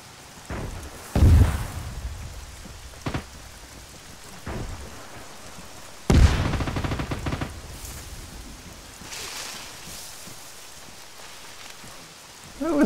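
Scattered gunshots and heavy booms in the military video game Arma 3, some near and sharp, others distant and rumbling, separated by stretches of quieter ambient noise.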